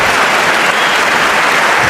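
Steady applause from a debate audience, dense and continuous throughout, with no voices over it.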